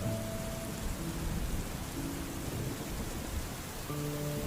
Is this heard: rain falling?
yes